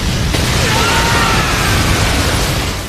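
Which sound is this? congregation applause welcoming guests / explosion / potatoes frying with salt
explosion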